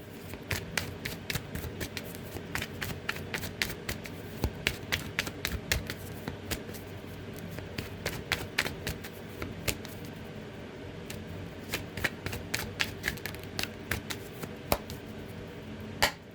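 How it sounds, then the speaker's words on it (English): A tarot card deck being shuffled by hand: a long run of quick, crisp riffling and slapping card sounds at close range, steady throughout with sharp individual snaps, and no talking. "let's get some tarot about this. Let's get a good shuffle"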